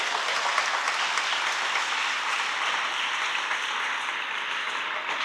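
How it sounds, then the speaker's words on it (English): Audience applause at the ceremonial opening of an exhibition, dense steady clapping from a sizable crowd, even and sustained throughout without breaks. "Please give her a round of applause."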